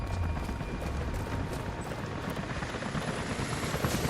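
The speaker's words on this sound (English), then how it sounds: "Jacob, helicopters are headed your way." Helicopters approaching in the video game Rise of the Tomb Raider, a steady, loud rotor rumble with a dense, continuous wash that holds level throughout without any speech.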